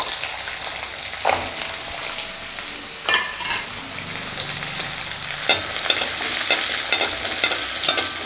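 Small onions sauté in hot oil for a mutton bone curry, a steady close sizzle broken by scraping stirs of a spoon in the pan, growing a little louder toward the end.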